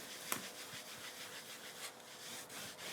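Antique linen distress ink rubbed firmly onto embossed card, a soft close scuffing friction with one brief sharp scrape near the start, then quiet, uneven rubbing strokes.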